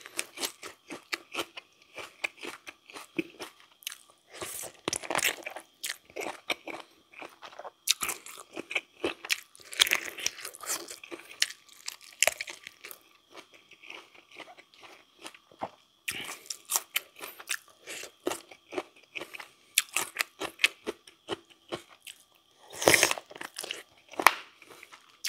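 Someone chews a crunchy Thai-style spicy chicken feet salad sprinkled with crispy leucaena seeds, giving close, sharp, irregular crunches and biting crackles in uneven bursts throughout.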